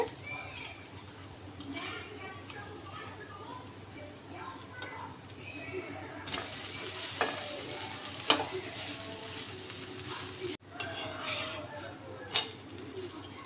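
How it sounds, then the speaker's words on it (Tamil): A jowar (white sorghum) dosa frying crisp on a hot pan gives a steady soft sizzle throughout, with a few sharper clinks of a spatula and a louder hiss as it is flipped near the end. "இந்த அளவுக்கு கொஞ்சம் கிறிஸ்பியாக பொரிஞ்சோன்னா மாற்றி போட்டுக்கோங்க"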